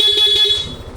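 The stock horn of a Yamaha Aerox V3 scooter sounds loud and close as one steady buzzing honk of about a second.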